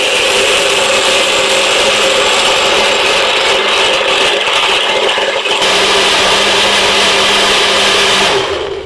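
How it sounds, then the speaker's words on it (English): A blender purees chokecherries with their seeds and stones, a loud, steady grinding whir running continuously before cutting off at the very end. "it's gonna get noisy. We're gonna blend this up."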